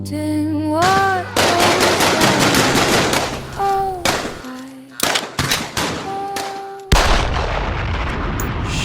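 Gunfire outside, with bursts of loud rapid shots and booming reports in quick succession, mixed with musical tones and effects.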